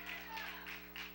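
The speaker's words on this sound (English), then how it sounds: "Oh, clap your hand and shout hallelujah." A church congregation claps hands during a sermon: soft, rhythmic claps recur about three times per second, faint and somewhat distant under a steady room hum and voices.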